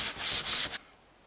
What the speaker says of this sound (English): So I start sanding my wood like this.